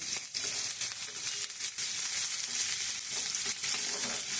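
Dried red chilies sizzle and fry steadily in hot oil in a pan for tomato rice, a continuous dense crackle with no voices.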